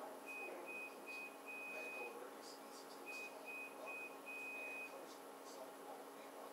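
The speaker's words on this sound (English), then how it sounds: "let's wait for that dumb beeping." A laundry machine signals the end of its cycle with two sets of short high electronic beeps, quiet against a steady room hum, with a faint voice in the background.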